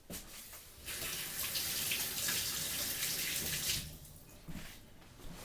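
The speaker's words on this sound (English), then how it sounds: "let me just rinse off hands" Tap water runs steadily into a kitchen sink as hands are rinsed, starting after a brief pause, flowing strongly for about three seconds, then cutting off with a few faint splashes.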